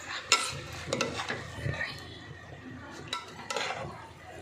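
Finished biryani is mixed in a pot with a spoon, giving soft scraping and shuffling strokes with a few sharp clinks of metal against the rim, close and quiet, with no voices.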